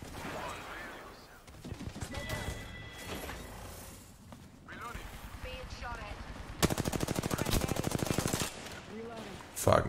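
Rapid automatic gunfire in the battle royale shooter Apex Legends, scattered bursts early on, then a long steady rattling stream of close shots, with voices talking amid the action.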